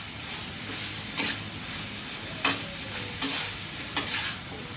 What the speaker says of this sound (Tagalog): ilalagay na natin ang ating repolyo